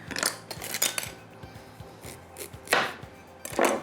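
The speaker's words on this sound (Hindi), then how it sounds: "so we got this cutter, इस कटर से आज मैं काट लेती हूँ" Vegetables are chopped with a handheld cutter, producing a quick run of sharp rhythmic taps on a board followed by a few heavier, scattered cuts, close and clear with no talk.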